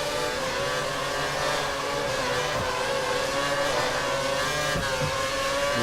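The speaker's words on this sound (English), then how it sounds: "Oh my god, he's drifting." A Formula 1 car in the F1 2013 video game drifts after contact with another car at Shanghai, its engine droning and revving steadily at mid pitch for several seconds with no talk over it.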